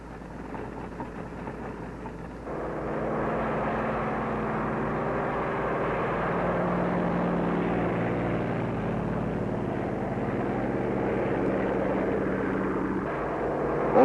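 Propeller planes take off from an aircraft carrier, control planes for guiding radio-controlled drone boats at Bikini Lagoon, a steady loud engine drone that swells after a couple of seconds and holds for the rest of the clip.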